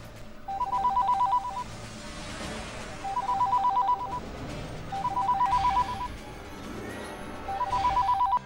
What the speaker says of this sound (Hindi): फोन मत उठाओ माँ